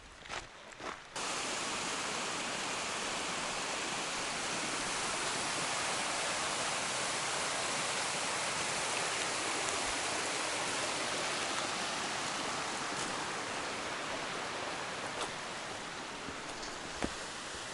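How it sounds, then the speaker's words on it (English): Small unnamed mountain creek along a long-distance hiking trail, a steady close rushing of flowing water that stays loud and even throughout, with a few brief knocks near the start and no voices. "The sign says it's a no-name"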